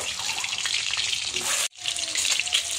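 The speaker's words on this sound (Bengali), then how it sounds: "এই যে আমি তেল গরম করে নিয়েছি, এবার ডিমটা ভেজে নেব।" An egg frying in hot oil in a home kitchen gives a steady, close crackling sizzle that cuts out briefly, then resumes just as densely.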